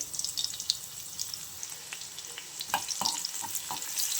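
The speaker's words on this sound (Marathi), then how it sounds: "इथे मी पाच चमचे तेल टाकून घेतलेलं आहे लसूण घालते" Garlic drops into five spoons of hot oil in a kadhai and fries with a steady bright sizzle, while soft crackles and a few stirring clinks sound up close.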